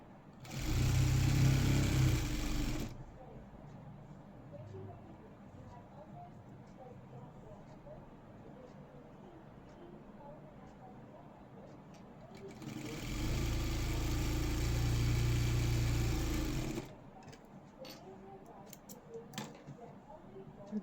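A sewing machine stitches a blouse in two steady, loud, whirring motor runs, one short and one longer, with a person talking in the quieter stretch between them.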